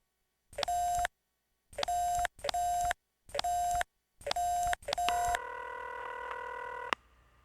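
Telephone keypad tones in The X-Files video game: six short, even beeps in a row, then a longer held ringing tone, clean and close.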